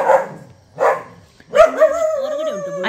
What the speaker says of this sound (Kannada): ಇಲ್ಲಿ ಒಳಗಿದ್ದು ನಾಯಿ ಬೊಬ್ಬೆ ಆಗುದು